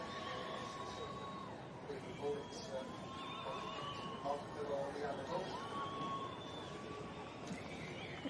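Horses neighing in the main show ring during a breed class at an agricultural show, with several whinnies rising and falling at moderate distance under steady crowd ambience and ongoing commentary.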